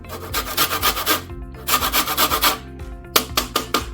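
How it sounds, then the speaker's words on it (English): A lemon rubbed against a grater for zest while a Caesar salad is made, giving close, steady rasping strokes in quick rhythmic bursts with a short pause in the middle. "So I'm going to go ahead and add just a little bit of lemon zest."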